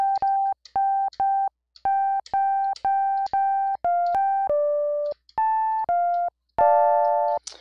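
Synthesizer FM tones with operator feedback: a series of short, separate sustained notes at changing pitches, bright and buzzy with a saw-like edge, played alone at close range with no talking.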